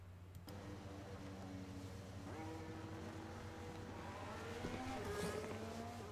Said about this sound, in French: Les pilotes commencent déjà à sortir des stands.